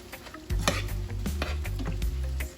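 Johnny cake dumplings sizzle in hot oil in a pan while a utensil stirs and scrapes them, a close, loud, steady frying sound with no talk.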